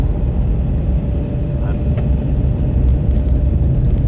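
Truck fitted with tire chains driving on snow, heard as a continuous low engine and road rumble that stays steady throughout.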